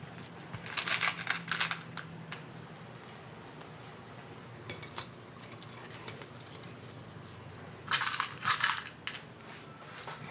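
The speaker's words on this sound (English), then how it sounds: "Let me rivet these in." Rivets being set into a leather firefighter radio strap: two bursts of sharp metallic taps and crunches, close and moderately loud, separated by a quieter stretch with a single brief strike in between.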